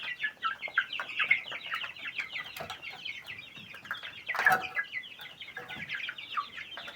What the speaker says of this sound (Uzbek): Qanday rivojlanib turibdi, qanday o'sib turibdi jo'jalar.